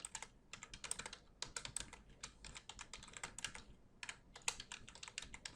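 Rapid keystrokes on a computer keyboard while HTML code is typed, coming in close, crisp bursts of clicks separated by brief pauses, with no voices.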